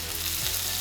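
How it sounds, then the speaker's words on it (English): Seasoned chicken pieces sizzle and crackle steadily in hot frying oil, a close, continuous hiss with no talking. "That's the sizzle we want."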